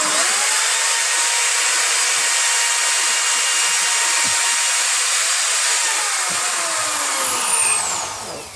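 A power tool works a hole into a closet part, giving a loud, continuous, high-pitched whine and grind that holds steady for about eight seconds before tapering off.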